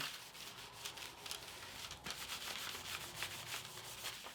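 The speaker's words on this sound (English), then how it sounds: "just use my plastic to rub her on there and make sure she's adhered really well to this backing" A plastic tool rubs steadily over paper, pressing it onto a backing board for Halloween wall art; a soft, continuous scraping swish, fairly faint and close, with no voices.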